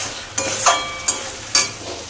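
Spiced potatoes being sautéed in a hot pan, a soft sizzle punctuated by three crisp scraping strokes of a spatula, each a brief bright burst against the quieter frying hiss.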